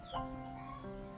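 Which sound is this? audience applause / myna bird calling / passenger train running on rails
myna bird calling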